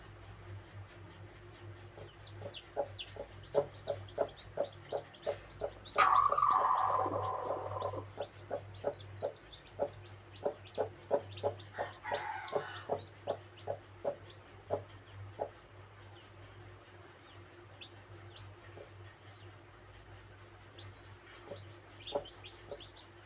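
Mother hen with newly hatched chicks, the chicks peeping in a steady stream of short, high cheeps close by while the hen clucks softly and a louder squawk breaks in briefly.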